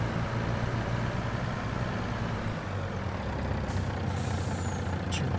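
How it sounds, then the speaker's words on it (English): Truck parking brake and trailer air brakes in Farming Simulator 22, a steady low engine idle running throughout, then a sharp hiss of air release near the end, followed by a short second hiss. "Parking brakes are on and the trailer brakes."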